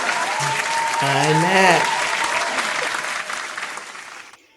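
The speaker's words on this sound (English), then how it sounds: "I queued them up to clap, and then they clapped for you and not for me" A live studio audience breaks into applause, a steady wash of clapping that swells and then fades out, with voices exchanging greetings over it.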